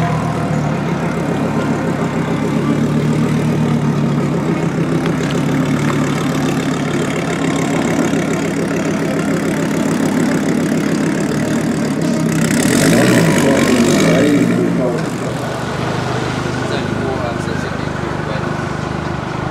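A 1300+ bhp Audi RS3 record-chasing car idles with a loud, lumpy, uneven rumble, rising briefly in a surge of revs near the end, while people talk over it.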